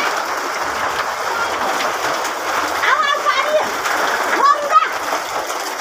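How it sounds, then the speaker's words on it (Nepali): Hail comes down in a steady, dense patter on outdoor surfaces, a constant rattling hiss with a cow nearby, while people talk over it. "असिनाको बर्सात हुँदैछ"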